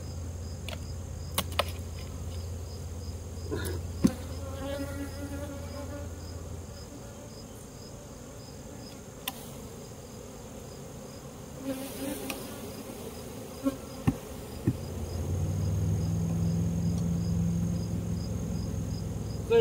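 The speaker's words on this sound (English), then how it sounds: "Look at the bees on this excluder." Honey bees on a hive excluder buzz in a continuous close drone, a steady humming swarm with occasional soft clicks and knocks, growing slightly louder toward the end.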